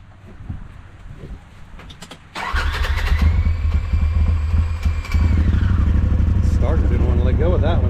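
A Polaris RZR side-by-side fitted with a P90 primary clutch cranks on its starter for about two seconds, then fires and settles into a loud, steady idle close by, with a voice faintly beneath.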